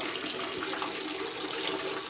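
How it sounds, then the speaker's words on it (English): A bathtub fills with water and cleaning solution, a steady, moderately loud rushing and splashing of water from the tap that runs throughout with no voices. "my tub is still filling up with water and the solution"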